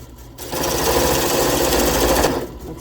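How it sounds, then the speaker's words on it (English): A parting tool cuts into a pottery stamp piece on a spinning machine, giving a loud, chattering mechanical rattle that swells in for about two seconds and then eases off, with no speech. "I'm going to use the parting tool to square off this end a little bit."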